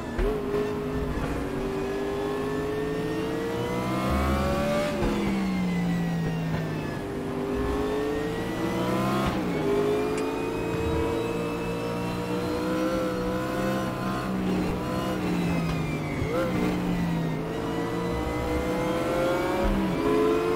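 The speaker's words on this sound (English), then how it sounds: "Zero sympathy for the engine there with the downshifts." A GTO race car engine in the RaceRoom racing game revs hard and drops through aggressive downshifts, its pitch climbing and falling in repeated sweeps, loud and steady throughout with no talk over it.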